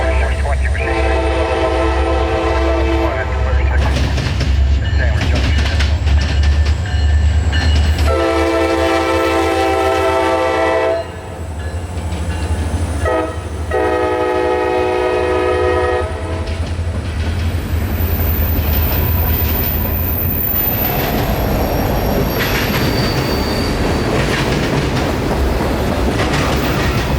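Freight train led by an all-EMD locomotive lash-up passing close, heavy diesel rumble with repeated blasts of the horn, then rolling wheel noise and clatter as the cars go by.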